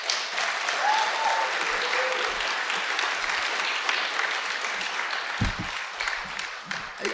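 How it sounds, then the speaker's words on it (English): A lecture audience gives the event organizers a sustained round of applause, a loud, even wash of many hands clapping for several seconds, with a few faint voices and a brief thump near the end. "Can everybody just applaud the organizers?"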